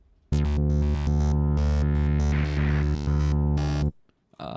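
A patch from the Arcminate synthesizer in NI Komplete 10, sustained as one rich, buzzy harmonic tone for about three and a half seconds, loud and steady with a bright swelling texture midway before it cuts off.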